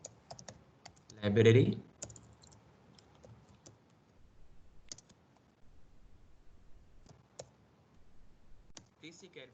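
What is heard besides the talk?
typing a program on a computer keyboard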